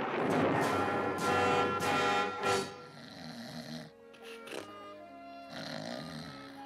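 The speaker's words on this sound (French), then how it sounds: "Moi, j'aime pas ronfler." Cartoon snoring from a Smurfs episode, a loud, rough rhythmic snore in the first few seconds, followed by quieter tonal sounds, with no talking over it.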